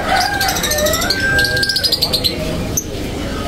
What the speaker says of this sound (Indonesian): Nah, ini ada burung lovebird ya.